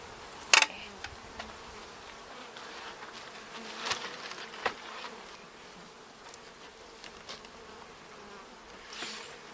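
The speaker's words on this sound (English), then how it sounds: "there's a lot of bees coming in and going out of there" Faint honeybee buzzing around a hive drifts through a quiet outdoor space, with a few sharp clicks and taps breaking in now and then.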